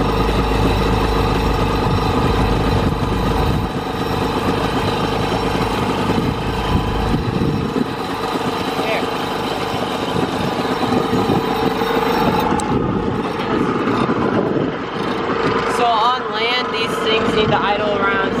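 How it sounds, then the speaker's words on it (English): A jet ski engine idles steadily at about 1500 RPM on a lake, a continuous close rumble that runs throughout while a person talks over it. "Need to idle around 1700 RPMs, and right now ours is at 1500 RPMs."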